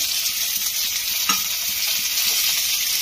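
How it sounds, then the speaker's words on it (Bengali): A large chopped tomato in hot white oil gives a bright, continuous, hissing sizzle, close and even throughout, with one faint clink of a utensil. "তেলটা বেশ গরম হয়ে গেছে, এখানে দিয়ে দেবো আমি একটা কেটে রাখা বেশ বড় সাইজের টমেটো।"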